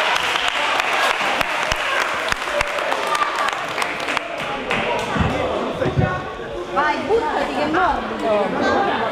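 Audience applause at a public event, sharp individual claps at first that build into a full round of clapping, with crowd chatter and voices mixing in as it carries on.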